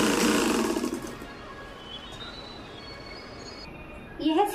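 A sewing machine stitches a salwar seam with a steady, fairly quiet mechanical whir that runs for several seconds after a louder opening burst and ends on a brief rise.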